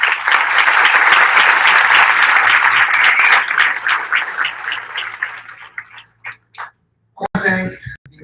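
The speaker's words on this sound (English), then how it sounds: "Please give them a round of applause" Applause from an audience at a civic installation ceremony for a mayor, a dense, sustained wash of clapping that thins and fades out, followed by a few scattered sounds.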